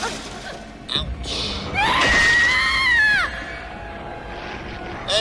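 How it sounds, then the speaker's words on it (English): A girl's high, wavering scream rings out down a hallway in the video game Resident Evil Revelations, loud and drawn out for about a second, then breaking off among dull background rumble. "you'll hear a scream."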